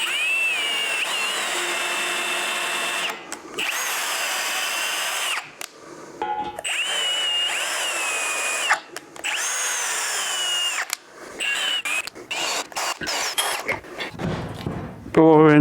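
A handheld power drill drives a spiral flute thread tap held in an ordinary drill chuck, chasing threads on a motorcycle frame; the motor whines steadily in long runs broken by short stops and restarts, with someone talking over it.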